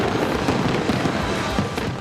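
Fireworks at a regatta show burst in a dense, continuous crackling roar, with overlapping pops and booms filling the whole short stretch, loud and close.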